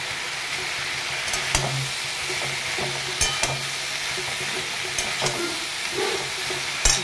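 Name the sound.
spices sautéing and being stirred in a pan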